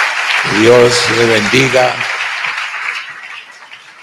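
Applause from a church congregation swells alongside a man's spoken blessing, then continues as a steady broadband patter that gradually fades over several seconds.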